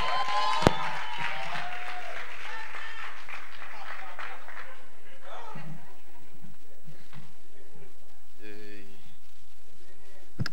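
Applause from an audience at a literary fair, strongest in the first half and thinning out, with a voice speaking over and after the clapping.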